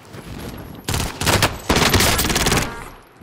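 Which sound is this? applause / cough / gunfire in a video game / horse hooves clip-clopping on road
gunfire in a video game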